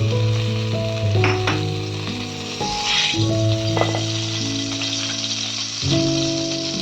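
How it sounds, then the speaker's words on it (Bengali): Prawns fry in hot oil in a pan for Bengali pepe chingri, prawns with papaya, giving a loud, continuous close sizzle with occasional stirring scrapes and a steady musical tone playing underneath. "ঢাকা দিয়ে আমি ভেজে নিচ্ছি মাছগুলো।"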